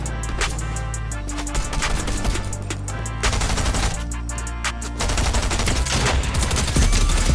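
Fortnite gunfire in rapid bursts, dense automatic shots crackling almost continuously, loud and close, with brief gaps between volleys.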